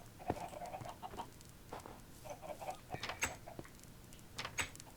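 Chickens cluck in short, scattered bursts, close by and moderately loud, with bright game-like chimes and effects mixed in.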